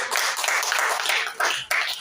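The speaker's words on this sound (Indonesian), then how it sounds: "Tepuk tangan sekali lagi Bapak Ibu semuanya" Applause from a seated audience at a teachers' session in Jakarta: a dense burst of hand clapping that dips briefly and resumes, fairly loud and close, with no talk over it.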